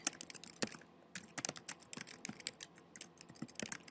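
Fingers type on a computer keyboard, quiet, fairly close, irregular bursts of key clicks with brief pauses, no talking.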